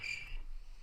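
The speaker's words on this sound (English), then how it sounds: "Why are you gonna hit me with the crickets, bro?" Crickets chirping in a short burst of high, rapid trills that fade after a moment, leaving a faint low hum.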